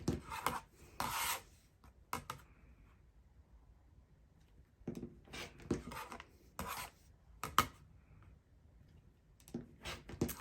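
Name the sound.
cutting fabric along a quilting ruler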